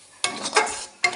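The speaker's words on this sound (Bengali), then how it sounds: "এই যে মটরশুঁটিটা এবার আমি কষিয়ে নেব" Green peas sautéing in a pan as a spoon stirs them, with a few scraping, sizzling strokes in quick succession, close and fairly loud, with short pauses between sweeps.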